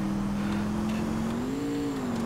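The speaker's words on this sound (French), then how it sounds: "T'entends, hein, le turbo et tout." A turbocharged car engine in GTA IV drones steadily with a rising, whining pitch as it accelerates, heard on its own without talk.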